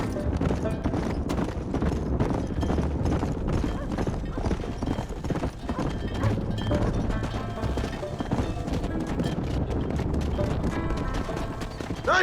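Horse hooves clip-clop rhythmically and continuously in the Red Dead Redemption video game on Xbox 360, mixed with clanks and thumps of nearby activity.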